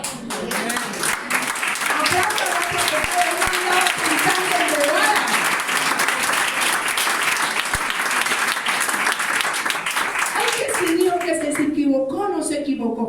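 Church congregation bursts into loud, sustained applause lasting over ten seconds, with cheering voices mixed in before the clapping thins out and a voice emerges at the end.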